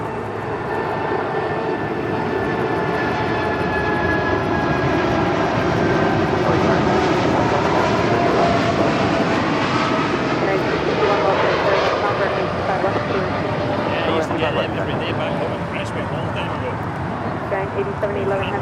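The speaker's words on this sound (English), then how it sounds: "this is Atlas Air Flight 8711 departing to Anchorage on a 747-8 freighter" An Atlas Air Boeing 747-8 freighter departs LAX for Anchorage, its four jet engines a loud, sustained roar with whining tones that swell and slowly shift, while people talk over it.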